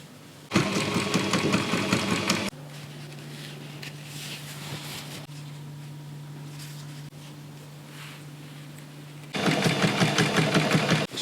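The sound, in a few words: sewing machine stitching a medieval dress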